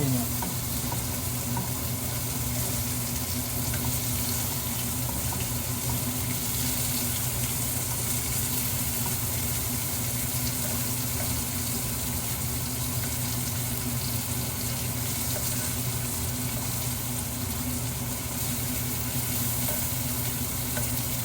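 Food sizzles and fries steadily in a pan as it is flipped, a loud, continuous hiss that stays even from start to finish with no talking.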